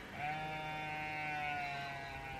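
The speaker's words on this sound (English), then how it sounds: "these sheep were really going for it." Sheep bleat in a long, drawn-out call outdoors on a hike, a single sustained nasal cry lasting over two seconds, fairly close and clear with no talking over it.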